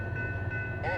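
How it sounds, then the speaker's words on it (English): An empty Norfolk Southern coal train climbs a hill on the Fort Wayne Line with a low steady rumble, and a voice talks briefly over it. "An empty coal train bound for the Mon Valley follows 22X up the hill."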